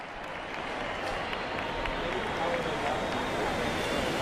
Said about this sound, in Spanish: La gente aplaude aquí en la plaza del Ayuntamiento